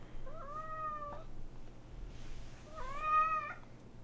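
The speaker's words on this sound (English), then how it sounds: "You meowing a whole bunch just makes me want to hold you more." A cat meows twice, each call a drawn-out, wavering cry from close by, separated by a short quiet gap against a low, steady background hum.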